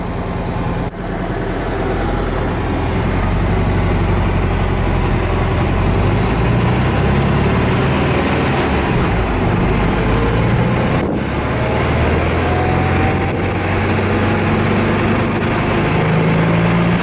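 A 1964 VW Beetle engine idles steadily with a droning, slightly rattling note from around its fan cover, loud and close, running continuously without talk.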